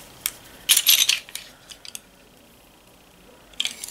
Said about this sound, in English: I should just pop the lid on this